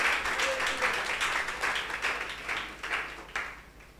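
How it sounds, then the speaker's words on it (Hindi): A church congregation claps for God during a Hindi sermon, the applause moderately faint and rippling with uneven bursts across the few seconds. "जोर से तालियां बजाइए पिता परमेश्वर के लिए यीशु मसीह के लिए पवित्र आत्मा के लिए"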